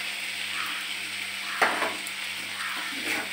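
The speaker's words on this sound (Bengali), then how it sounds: "ভালো করে কষাতে হবে, ভালো করে কষিয়ে নিচ্ছি।" Potato and fish curry being sautéed in a pan sizzles steadily up close, with a single sharp scrape of the spoon midway and a low electrical hum underneath.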